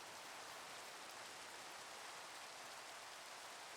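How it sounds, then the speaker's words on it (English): Steady rain in Minecraft, a dense even hiss of falling drops that stays uniform and fairly faint throughout, with no voices. "Looks like we've started immediately with some rain."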